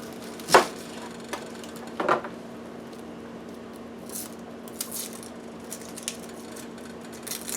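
Onions are chopped on a board for gumbo. A couple of firm knife thuds come early, followed by lighter scattered taps and some rustling under a steady low hum. No one speaks.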